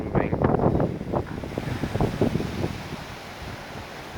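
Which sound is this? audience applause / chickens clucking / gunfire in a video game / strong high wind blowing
strong high wind blowing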